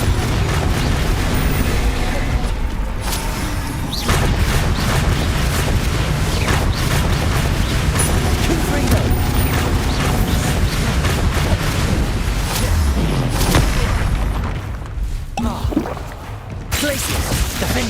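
Spell blasts in Hogwarts Legacy boom and burst in quick succession, a dense, loud barrage of explosions and impacts with shouted incantations mixed through the continuous combat noise.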